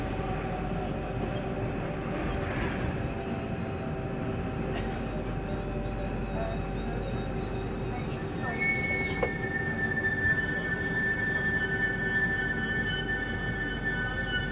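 A Lausanne M2 metro train pulls into Lausanne Gare, a sloped stop, with a steady rolling rumble, sustained wheel squeal and a bright, high tonal whine near the end.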